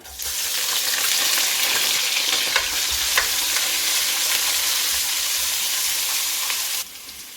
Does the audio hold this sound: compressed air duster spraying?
no